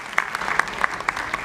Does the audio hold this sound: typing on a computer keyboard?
no